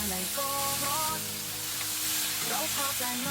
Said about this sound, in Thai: ผมก็จะใส่ หอมใหญ่ที่ซอยไว้นะครับ ลงไปผัดต่อได้เลยครับ